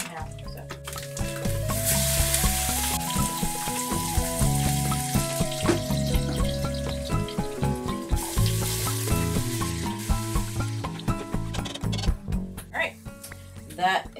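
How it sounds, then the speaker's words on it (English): Ground turkey browning in a pan in an RV kitchen, a steady sizzle with stirring scrapes and clinks close by, under a person talking. "Alright, those are starting to brown, so I'm going to add my ground turkey."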